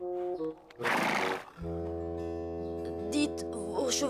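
Horses whinny in a festive farm scene, with a rough snorting burst early on and wavering neighs near the end, all set against sustained background music.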